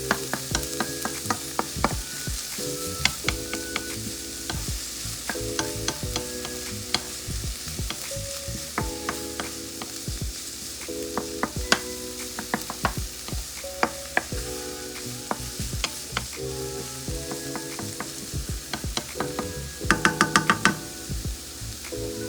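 Vegetables for pepper steak tossed and frying in oil in a pan, a steady loud sizzle broken by repeated scraping stirs and clanks of a utensil against the pan throughout, with no talking.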